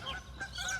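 A goose honks several times in quick succession, close and moderately loud, with a scratchy, nasal tone and no talking over it.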